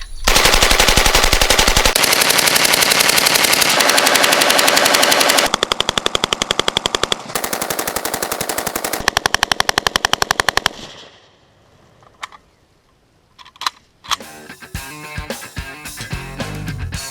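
An AK-47 rifle fires on full auto in long, loud, continuous bursts, then pauses before shorter scattered bursts and single shots toward the end.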